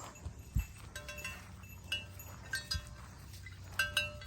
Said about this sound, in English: Just goats.